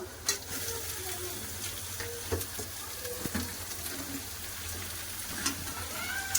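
Meat frying with onions in a pan, a continuous close sizzle with occasional clicks and scrapes of stirring, steady and moderately loud with no speech.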